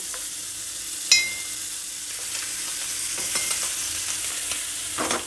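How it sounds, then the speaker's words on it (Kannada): Butter frying in a hot cast paddu pan for Davangere benne paddu, a steady soft sizzle with faint scraping and small clicks as it melts across the cavities, close and without talk. "ಈಗ ಪಡ್ಡು ತವ ಬಿಸಿಯಾಗಿದೆ ಇದಕ್ಕೆ ಬೆಣ್ಣೆ ಹಾಕ್ತಾಯಿದ್ದೀನಿ"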